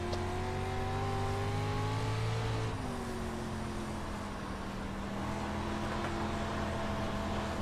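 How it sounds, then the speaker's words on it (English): A race car in the iRacing sim, engine droning with steady tonal harmonics that drop sharply as it slows under braking, the brakes sounding rusty, then settle into a lower continuous hum. "Brakes sound really rusty, don't they?"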